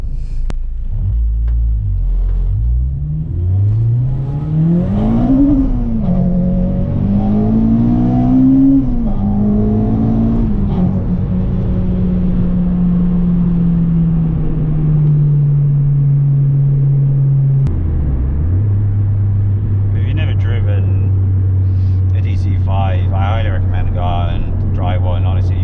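A Honda Integra DC5 with a K20 engine revving up and down through rising and falling pitches, then settling into a steady drone; a voice talks faintly over it near the end.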